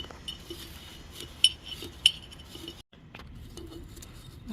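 Fresh tea leaves being handled and put into a glass jar outdoors in light rain, with a few sharp glassy clinks standing out over a soft, steady background rustle.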